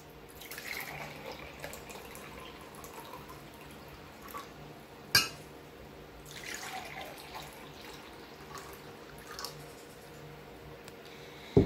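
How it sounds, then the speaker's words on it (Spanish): Glasses filled halfway with water from a tap, a steady faint pour running through the whole stretch with a few soft clinks and splashes, no talking. "Primero vamos a llenar los vasos por la mitad de agua."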